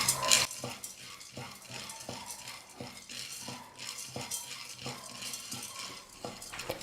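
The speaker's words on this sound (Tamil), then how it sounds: "இந்த பொட்டுக்கடலையை கடாயில் சேர்த்துட்டு நல்லா வறுத்துக்கலாம்." Dry roasted gram rattles and scrapes in a pan over a medium flame as a spatula stirs it in repeated strokes, with a faint sizzle underneath; close and fairly quiet.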